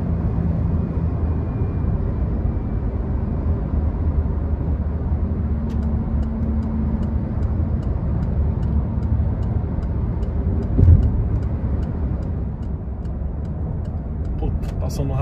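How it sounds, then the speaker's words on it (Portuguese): Peugeot 208 Style 1.0 (2024) heard from inside the cabin on the road: a steady, loud engine and road drone that holds fairly even throughout, with faint ticking clicks on top. "Passeada no motor, deixando rolar aqui as marchas."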